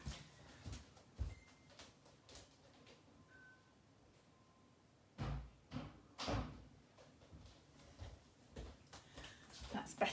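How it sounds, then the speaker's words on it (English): A door is pulled shut indoors with several thuds and clunks spread across the stretch, including a heavier bang partway through, close and fairly loud against a quiet room. "I'm just going to pull this door to."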